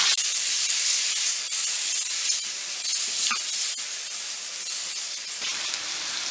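Tomatoes, spices and ginger-garlic paste cooking in a hot pan, a loud, steady, steamy hiss and sizzle heard close up with no talk.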